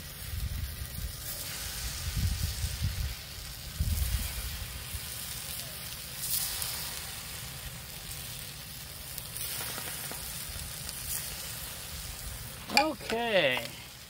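Tofu slices sizzle on a hot griddle set to medium, a steady close frying hiss with low crackling rumble that runs throughout, plus a brief squeaky scrape near the end.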